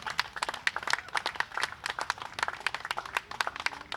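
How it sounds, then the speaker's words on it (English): Audience applause at an event honouring hockey players, a lively patter of distinct individual claps from a modest crowd, fairly quiet and uneven. "Keep that applause coming, please."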